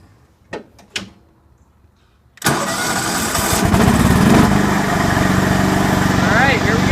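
A John Deere LX173 lawn tractor engine is cranked after two sharp clicks, then catches and runs loudly and steadily up close, with a brief rise in revs partway through.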